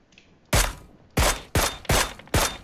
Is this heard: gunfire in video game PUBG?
yes